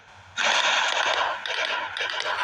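A gun in the Melon Playground game fires after a quiet start, letting out a burst of rapid, crackly shots that continues with short dips until the end.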